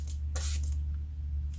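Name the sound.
spray bottle spraying water on paint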